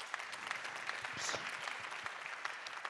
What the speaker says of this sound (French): Bravo, on peut encore vous applaudir